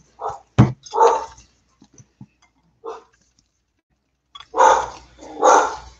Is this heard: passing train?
no